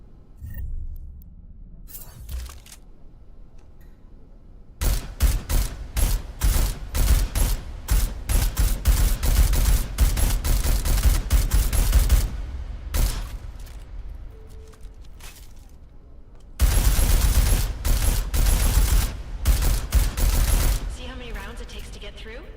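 Rapid gunfire at targets in Deus Ex: Mankind Divided, with loud sustained bursts of shots that stop, resume and stop again, plus mechanical clicks during the quieter stretches.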